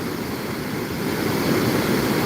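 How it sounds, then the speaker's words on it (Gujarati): The Tapi river at Surat rushes past in a steady, loud, broadband roar of flowing water with no pauses and no voices. "જોઈ લ્યો આ એમનો પાણીનો પ્રવાહ"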